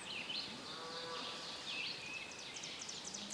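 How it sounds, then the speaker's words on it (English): Cattle lowing on public land in Arkansas woods, a couple of low drawn-out moos at moderate distance amid steady insect buzz and outdoor ambience, with no one speaking. "Dang cows"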